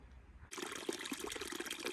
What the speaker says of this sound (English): First water source of the day.